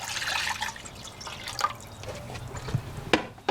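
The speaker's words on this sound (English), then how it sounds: "you scoop the water out here like this. You put the water in here." Water is scooped out and poured into a container as part of a van-life water and bathing system, with soft splashing, trickling and a few drips up close, fairly faint.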